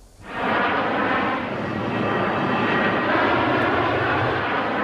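An airplane passes high over a city, a broad rumbling engine roar that swells in within the first half second and then holds steady and loud without voices.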